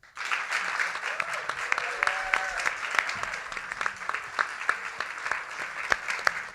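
Audience applause for the panelists of a 2007 National Wildlife Federation global warming webcast; a continuous wash of clapping with sharp individual claps standing out, steady throughout.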